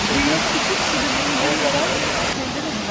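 Güzeldere waterfall rushes in a constant, loud, broad roar close by, with a voice speaking over the falling water.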